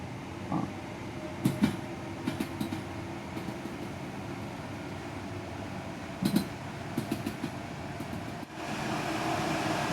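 A train runs steadily with a continuous low rumble and periodic clacking over the rails in Train Sim World 3, on the Ramsgate to London Victoria route, no speech.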